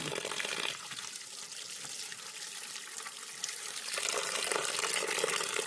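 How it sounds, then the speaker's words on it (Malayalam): Water pours steadily into clay soil as it is mixed into a slurry, a continuous rushing splash that swells slightly louder near the end. "ഇനി ഫുള്ള് വെള്ളം ഇട്ടിട്ട് മണ്ണ് ഫുള്ള് കലക്കിയിട്ട് വെള്ളം പോലെ ആക്കണം"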